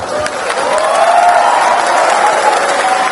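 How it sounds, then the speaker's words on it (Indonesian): A student audience at a presidential-candidate Q&A in Pontianak breaks into sustained applause, a dense wash of clapping mixed with crowd voices and cheers lasting the full few seconds. "Tepuk tangan dong."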